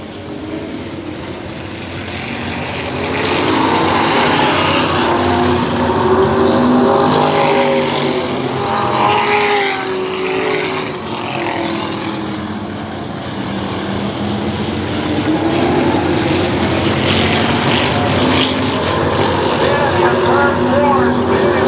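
Race cars roaring around Kil Kare Speedway at a 1994 Memorial Day championship event, a dense continuous engine drone that swells and recedes as the pack passes, loud throughout with an announcer talking over it.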